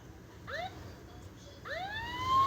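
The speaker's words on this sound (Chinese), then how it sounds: "你按消防车的声音给爸比" A toy fire truck siren sounds in two short rising wails about a second apart, thin and electronic at close range in a quiet room.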